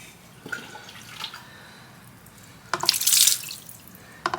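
Water sprays onto a wheel rim and tire in short hissing bursts, quiet spatters at first, then a louder sustained spray, and a final brief burst, with no talking.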